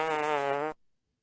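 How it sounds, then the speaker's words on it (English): A fart button sound effect gives one buzzy, tonal blast lasting under a second, then cuts to silence. "He is the personification of the fart button that we push all the time."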